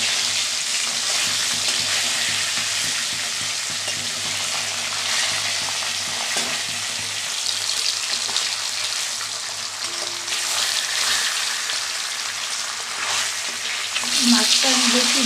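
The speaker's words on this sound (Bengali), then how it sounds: "ততক্ষণ মাছটা ভেজে নিই মাছটা পিঠ করে দিয়ে দিই" Pieces of rohu fish frying in hot oil make a dense, continuous, loud sizzle close by, holding steady for the whole stretch with a brief rise near the end.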